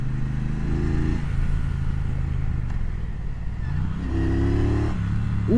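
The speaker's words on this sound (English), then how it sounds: "the way this motor sounds, God, I hope it comes over on the mic" Triumph Bonneville Bobber Black motorcycle engine rumbling nearby on a test ride, a deep steady throb with two short rising revs, loud and without talk.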